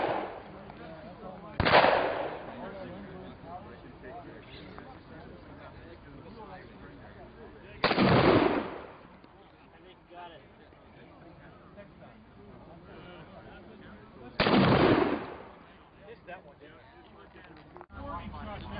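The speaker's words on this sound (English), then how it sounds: "Let's just go shoot it with some double-aught." A shotgun loaded with double-aught buckshot fires three loud, separate blasts at a flashlight outdoors, spaced several seconds apart, with voices talking between the shots.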